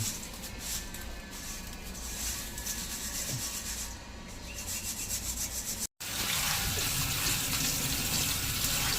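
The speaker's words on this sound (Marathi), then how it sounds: "पोहे घेतलेत आणि ह्याच्यात बघा किती पावडर असते म्हणजे ती चुरा झालेली तर ती आपण आधी चाळून घेऊया" Flattened rice (poha) being sifted by hand to remove the powdery crumbs, giving a steady dry rubbing, rustling hiss throughout, close and moderately loud, with a brief break partway and no talking.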